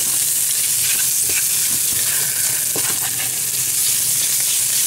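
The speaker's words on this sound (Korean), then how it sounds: "자 이렇게 볶아서" Sea snails (golbaengi) stir-fried in a seasoning sauce over direct fire give a loud, steady sizzle with occasional scraping stirs and small crackles throughout.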